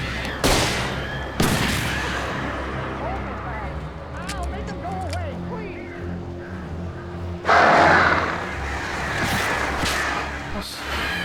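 Flare gun shots in Alan Wake Remastered, heard as loud sharp bangs, one near the start and a bigger burst later, over a rumbling, ringing game soundscape with a voice talking.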